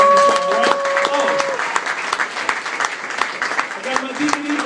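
Comedy club audience clapping at Dr. Grins in Grand Rapids, Michigan, a dense sustained round of applause with someone talking over it.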